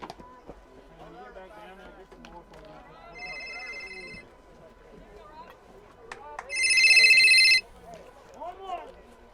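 A cell phone ringtone goes off twice during a high school baseball game broadcast between Richland and Hampshire, a short electronic melody and then a louder burst, under the play-by-play commentary.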